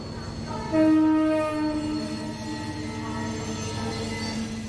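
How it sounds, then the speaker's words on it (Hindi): A passenger train passes with a strong horn blast early on, then a steady rumble of rolling cars and a lingering tonal whine, fairly close and continuous, with no talk over it. "यही ट्रेन जाती है लखनऊ, हफ्ते में एक बार।"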